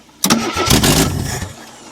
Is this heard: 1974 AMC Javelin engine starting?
yes